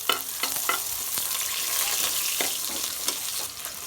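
Onion frying in hot oil in a kadai with bay leaf, cinnamon, cloves and cardamom, a steady close sizzle broken by scattered clinks and scraping stirs.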